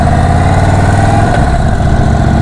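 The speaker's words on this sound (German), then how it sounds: "man hört den Motor auch" An Indian Chief Dark Horse motorcycle with an adjustable-flap aftermarket exhaust idles up close: a loud, steady low rumble that holds evenly throughout, with no voices.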